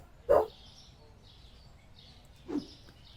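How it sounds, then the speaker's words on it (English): Dogs barking next door: two sharp, short barks about two seconds apart, heard at a moderate distance over a quiet background. "we have some dogs going absolutely crazy next door"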